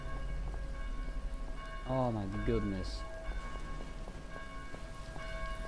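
Steady rain falls in the Dead Island video game, a constant hiss filling the whole stretch, with a person briefly exclaiming over it near the middle.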